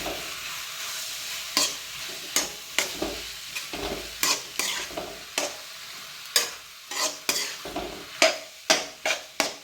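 Tomatoes sautéing in a pan for Trivandrum-style kothu parotta, a steady sizzle broken by repeated sharp scrapes and taps of a spatula stirring against the metal, close and rhythmic.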